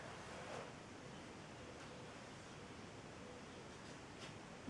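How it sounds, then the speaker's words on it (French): Soft, continuous wash of sea waves breaking on the shore of a deserted island, a faint, even rushing surf with gentle swells and no voices. "Des vagues qui déferlent sur une île déserte."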